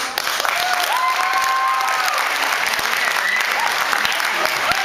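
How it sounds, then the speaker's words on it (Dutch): A live concert audience applauds warmly and steadily for several seconds, dense clapping filling the room, with a presenter's voice faintly audible beneath it. "Dames en heren, een warm applaus voor Noor"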